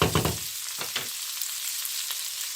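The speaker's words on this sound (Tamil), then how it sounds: "இப்போ நீளமாக அரிந்து வைத்திருந்த வெங்காயமும் இதோட சேர்த்திருக்கிறேன்" Sliced onions go into hot oil for tomato rice and crackle sharply at first. The sizzling then settles into a softer, steady frying hiss with a few small pops.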